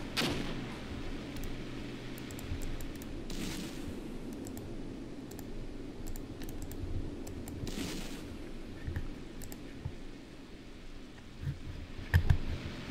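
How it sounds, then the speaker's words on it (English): Enemy artillery shells land in the Armored Brigade war game, several faint, distant thuds and crumps spaced a few seconds apart over a low battlefield rumble, with a sharper impact near the end. "Looks like we might also have some enemy artillery dropping here."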